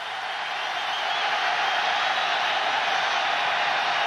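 A football stadium crowd roars in a steady, dense wall of cheering and noise at a 1995 college game, loud and continuous throughout with no break.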